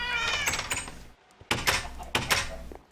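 A Minecraft cat gives a clear drawn-out meow, followed after a brief pause by a pair of sharp clicking, knocking game sounds.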